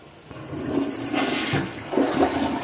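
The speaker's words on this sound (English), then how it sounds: "Okay, flush the toilet, baby. Flush the toilet." A household toilet flushes nearby with a loud rushing gush of water that swells, surges again, and keeps swirling to the end, with no talk over it.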